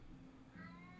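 A pet cat meowing softly indoors, with a couple of drawn-out tonal meows, faint and near, over a quiet background.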